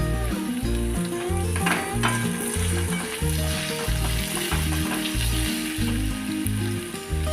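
Potatoes frying in oil give off a constant bright sizzle, heard close and steady beneath rhythmic background music throughout.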